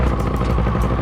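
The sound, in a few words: paramotor engine pull-started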